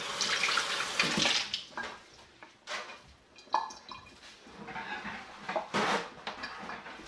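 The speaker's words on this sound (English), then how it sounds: "First things first, I'm gonna wash my hands." Tap water runs and splashes as hands are washed under a faucet while prepping meals, a steady gushing stream with a few bursts and clatters near the sink.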